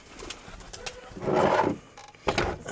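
Pigeons coo softly in low, rolling calls, with a couple of brief rustling noises around them.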